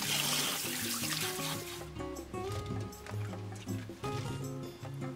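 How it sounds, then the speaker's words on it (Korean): Twenty jujubes being washed under running kitchen tap water, a close splashing gush with trickles and clinks, steady throughout with a faint murmur in the background. "대추 20알도 씻어서 물기를 빼줬다."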